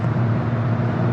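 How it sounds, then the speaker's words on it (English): Lexus GX 550 Overtrail+ cruising on a freeway with a trailer in tow on a windy day, a steady, loud broadband road and wind roar from inside the cabin with no break. "I'm driving on the freeway with the trailer in tow"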